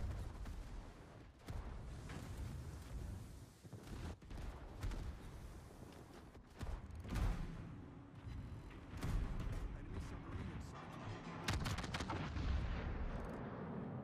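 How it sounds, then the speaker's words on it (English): Naval guns on the cruiser Napoli firing armour-piercing shells in World of Warships, a run of heavy booming salvos with rumbling tails, repeated every second or two across the stretch, with no talking. "Good shots with the AP on the Napoli."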